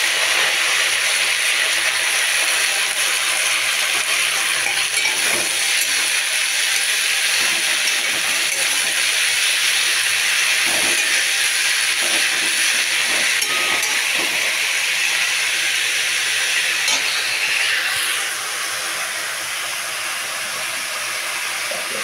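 Chopped sada note greens hissing in a hot pan, a loud continuous sizzling hiss that holds for many seconds and eases slightly near the end.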